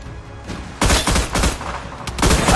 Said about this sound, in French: Attention, vous tirez!